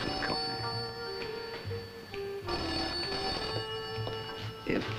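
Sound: telephone ringing

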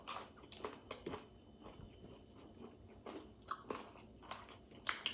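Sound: biting and chewing a Popeyes chicken sandwich

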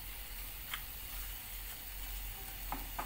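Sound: liver sizzling in a pan

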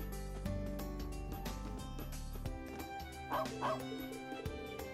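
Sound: dog barking in video game Trails of Cold Steel 3

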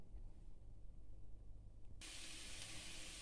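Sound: onions frying in a pan

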